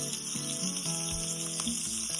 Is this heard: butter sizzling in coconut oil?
yes